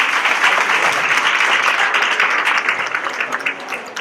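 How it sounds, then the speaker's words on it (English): Audience applause fills a chamber of commerce luncheon meeting, dense sustained clapping that holds steady for several seconds before thinning slightly toward the end. "let's give him a round of applause"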